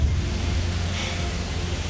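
Waterfall at Dicks Meadows falls in Wentworth, Nova Scotia cascading down in a steady broadband rush, a constant close roar of falling water with no voices.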